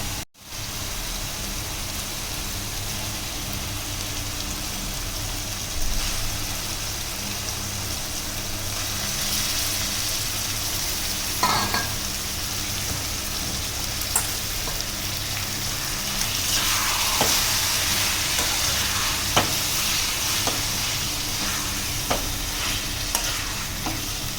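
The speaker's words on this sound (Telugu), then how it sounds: "ఇప్పుడు 1-2 సార్లు బాగా ఉప్పుతో కడిగిన చికెన్ని ఇందులో వేయాలి." Salt-washed chicken for green chicken dropped into hot oil, starting with a sharp splash, then a broad hissing sizzle that swells around the middle with occasional stirring clatter, close and steady, no voices.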